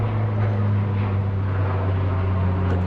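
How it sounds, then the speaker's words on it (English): Loud, steady low drone of an airplane passing overhead, a continuous engine rumble holding level throughout with no talking. "It's like this plane coming over my head right now."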